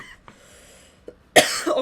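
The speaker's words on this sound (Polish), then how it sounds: "Jeszcze na sam odcinek mnie kaszel złapał." A single sharp cough from a woman, close and loud, after a few faint breaths and small mouth noises.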